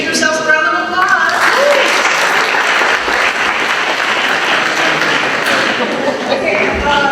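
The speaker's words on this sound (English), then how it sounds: "Give yourselves a round of applause." Loud, sustained applause fills a room during a college orientation session, a thick wash of many hands with a few tonal pings near the start, continuing without pause.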